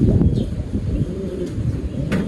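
Racing pigeons in a loft, readied for a summer derby race, give soft, low, throaty coos close by, with a faint chirp or two above the murmuring flock.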